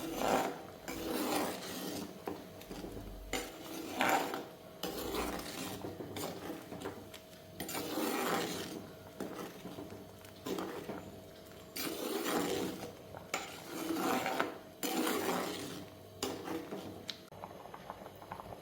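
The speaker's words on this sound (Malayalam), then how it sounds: "നമുക്ക് ഒന്ന് ഇളക്കി ഇട്ട് കൊടുക്കണം." Repeated scraping and rubbing of a utensil against a pot of boiling taro curry, coming in rhythmic bursts of stirring, fairly quiet with no talking.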